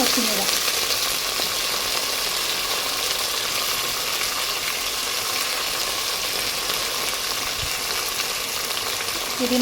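Green chillies with slits cut into them sizzle in hot oil in a pan while bagara rice is being made, a loud, even frying hiss that runs the whole way through with no talking.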